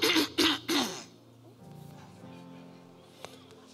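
Three quick, loud throat-clearing coughs from a preacher during a church sermon, followed by a quiet room with a low hum.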